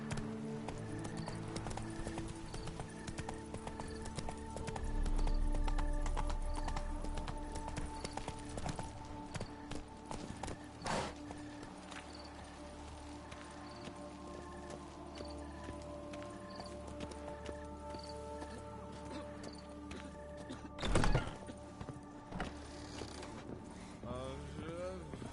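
Roach, Geralt's horse in The Witcher 3 on PS4, gallops with steady rhythmic hoofbeats throughout, joined by game ambience, a brief whinny and a loud thump near the end.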